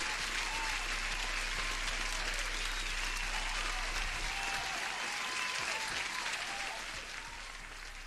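Loud, sustained applause from a large crowd, a continuous roar of clapping that fades slightly toward the end.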